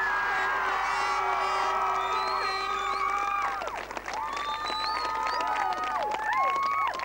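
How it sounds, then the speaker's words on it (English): A Gaelic football crowd at an All-Ireland Intermediate Final cheers, whoops and applauds their team, with shouting voices and whistles riding over dense clapping, loud and lively throughout. "I would like you to keep your biggest round of applause for what is the senior team of Ilen Rovers today"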